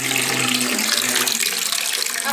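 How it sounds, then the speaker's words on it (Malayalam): Water splashing as a child plays in bath water, a steady close wash of sloshing and running water with a faint low hum at the start. "ആരാ വെള്ളത്തിൽ കളിക്കുന്നേ?"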